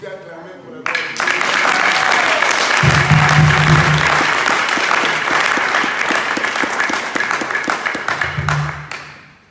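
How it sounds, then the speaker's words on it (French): A church congregation applauds with loud, sustained clapping that rises and slowly fades, with voices and low musical tones beneath it. "Est-ce que tu peux acclamer pour la gloire de Dieu?"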